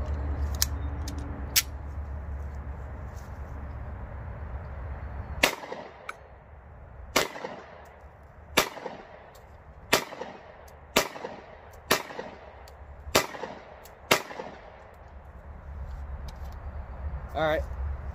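A Bersa BP9CC 9mm pistol fired outdoors, about eight sharp, loud shots spaced a second or so apart, alone with no talk, after a few fainter clicks and handling sounds at the start.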